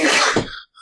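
A single sharp sneeze bursts out close by during a tabletop game session, loud and abrupt, then cuts off into a brief silence before a faint tail.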